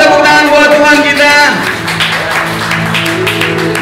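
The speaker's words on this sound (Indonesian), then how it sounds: "Boleh kasih tepuk tangan buat Tuhan kita." A congregation claps at a prayer fellowship for elderly church members, with steady hand clapping from a gathered group following a speaking voice.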